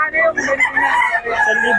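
A rooster crows over Gilmore-breed hens clucking nearby, with some talk mixed in; loud and close throughout.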